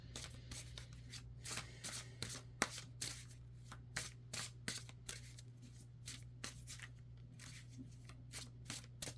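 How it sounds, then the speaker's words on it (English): Tarot cards being shuffled by hand, close and quiet, as a run of crisp riffling bursts in an irregular rhythm over a low steady hum, with no speech. "there was kind of this energy while I was shuffling these cards"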